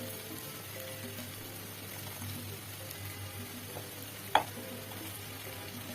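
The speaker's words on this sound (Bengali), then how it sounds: "পেঁয়াজ রসুন ভালো করে ভেজে নিব" Onion and garlic frying in a pan, giving a soft, steady sizzle that stays faint and even throughout, broken by one brief sharp clink near the end.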